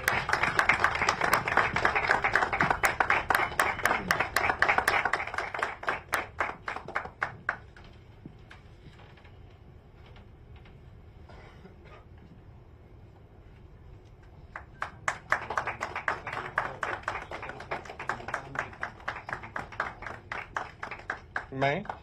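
Guests at a Jio 5G service launch event in Chhattisgarh clap in bursts of sharp individual hand claps, falling to a quieter lull with faint voices in the middle before the clapping picks up again.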